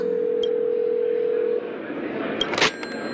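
In the video game Honkai: Star Rail, a phone line hums with a steady dial tone for about a second and a half, followed by a few faint clicks and brief electronic blips, close and clear with no speech.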